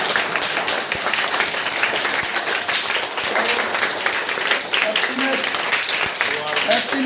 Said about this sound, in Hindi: मैंने कहा आपको अपने आप के लिए ताली बजानी है